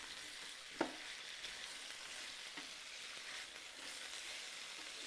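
Potatoes are stirred with minced garlic and softened onions in oil for Cajun smothered potatoes, a soft steady sizzle with a sharp utensil knock near the start and faint scraping after.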